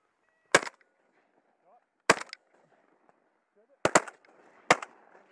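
Four loud shotgun blasts from a Beretta A400 Xtrema during a paradise duck hunt in Northland, New Zealand, come in two spaced pairs, each a sharp crack with a brief echoing tail over quiet outdoor air.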